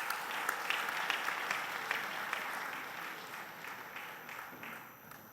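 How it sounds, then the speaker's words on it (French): Audience applause at an innovation award ceremony, a steady wash of many hands clapping with a few sharper nearby claps, fading slightly toward the end. "Sous vos applaudissements, bien sûr."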